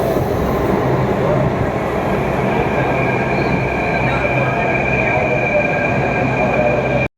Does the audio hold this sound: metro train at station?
yes